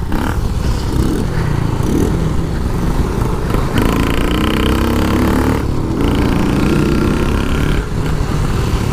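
A small Shineray motorcycle rides along with a loud, rough engine note that rises and falls with throttle changes, mixed with wind buffeting and road noise close to the mic.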